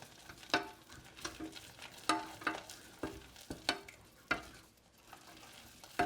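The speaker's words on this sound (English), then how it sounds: "mix everything and continue mixing everything until a dough is formed and it comes out from the sides of the pan and forms a ball" Choux pastry dough being stirred with flour in a pan on the stove, a spoon scraping and thumping against the pan in irregular strokes with faint sizzling between, close and fairly quiet.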